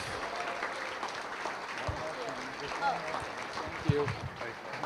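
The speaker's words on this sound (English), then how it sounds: "a round of applause for the father of the bride." Wedding reception guests applaud the father of the bride with steady, moderate clapping that fills the room, with indistinct voices mixed in throughout.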